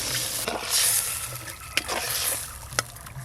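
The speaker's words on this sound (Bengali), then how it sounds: "এবার পরিমাণ মতো জল দেব।" Water poured into a pan of sizzling fried spice paste for a fish curry, a steady hiss and crackle with a couple of sharp clinks near and fairly loud, no voices.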